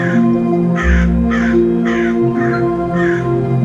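Crows caw loudly and close by, giving about six harsh calls in a steady, evenly spaced rhythm over a constant low background hum.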